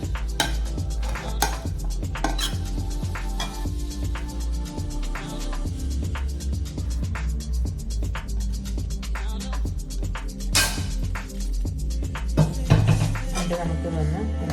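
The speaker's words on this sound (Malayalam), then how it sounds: "നമുക്ക് വന്ന് എല്ലാം മിക്സ് ആക്കി കൊടുക്കാം." Akki roti ingredients being mixed in a bowl in a Bangalore home kitchen, with continuous scraping and clinking of a utensil against the bowl in a busy irregular rhythm and occasional talk.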